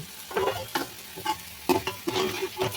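Bitter gourd pieces frying in oil until brown, with stirring scrapes and clinks over a steady low sizzle in a series of irregular bursts, close and fairly loud, with no voices.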